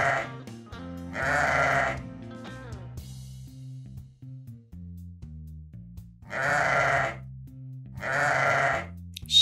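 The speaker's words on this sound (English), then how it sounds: "Sheep." Sheep bleating in four loud, wavering calls, two near the start and two toward the end, alone over a steady musical background with no talk.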